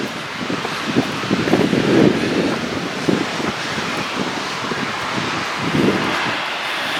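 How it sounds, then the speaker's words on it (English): Strong, very gusty wind blasting against a microphone on a walk beside a canal, a steady loud roar with buffeting surges that continues throughout. "Oh, very windy."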